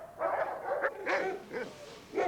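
A trained dog barks four or five times in short, sharp, close barks with brief gaps between them, alone and clear.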